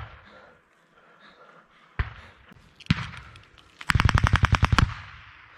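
Machine gun fire in combat in Ukraine. A few scattered heavy shots come first, then a loud, fast burst of about a dozen rounds close by, over a low background rumble.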